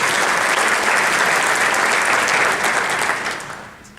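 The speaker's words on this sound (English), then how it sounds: "One more round of applause for all of our award winners this evening." Hearty audience applause at an academic awards evening, a dense sustained clapping from a full room that tapers off over the last second.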